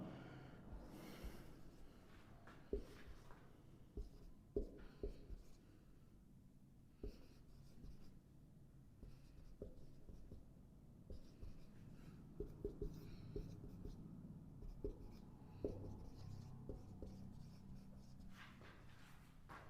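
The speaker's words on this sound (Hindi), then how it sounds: "मैं एक रैंडम सेंटेंस लिखता हूँ" A pen scratches out a sentence on paper, faint soft strokes and small taps in an irregular rhythm across a quiet room, with occasional breaths and no speech.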